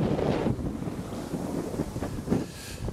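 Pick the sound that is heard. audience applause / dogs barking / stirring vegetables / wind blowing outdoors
wind blowing outdoors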